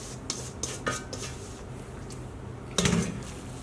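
Seasoning being mixed into minced meat in a bowl, heard as a few light clinks and scrapes of a utensil against the bowl over a soft, quiet kitchen background.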